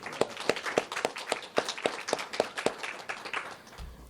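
Applause from an audience at a university keynote event with a Latin American and Caribbean Studies library, sounding as a steady run of clapping with sharp individual claps, fairly close, continuing without voices until it thins near the end.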